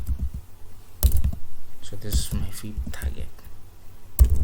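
Someone types on a computer keyboard while setting up a forex chart, with brief bursts of key clicks between stretches of someone talking.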